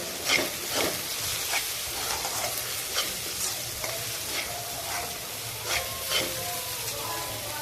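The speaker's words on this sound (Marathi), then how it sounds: "आता हे चांगले परतून घेते" Tomato, chili powder, onion masala and salt sautéing in a pan, a steady close frying sizzle with intermittent stirring scrapes and clinks throughout, no talk.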